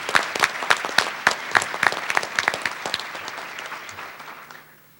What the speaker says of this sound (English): let's give LTD another round of applause for bringing us together